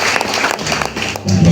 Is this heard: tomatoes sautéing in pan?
no